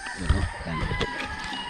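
Chickens cluck and a rooster crows on a home farm in the early morning, the calls steady and fairly close, layered over a continuous background of other birds and farmyard noise.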